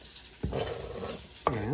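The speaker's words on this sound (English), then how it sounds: "I'm going to saute the onion and the pepper together" Onion and pepper sautéing in a pot for Spanish picadillo: a steady close sizzle with two sharp clatters of a spoon stirring against the metal.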